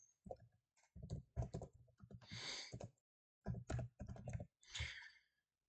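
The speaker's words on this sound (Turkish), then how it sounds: "Yeni proje kısmına projenin adını yazalım." Keys clatter on a computer keyboard as a project name is typed, fast bursts of clicks separated by short pauses, close and clear with no one speaking.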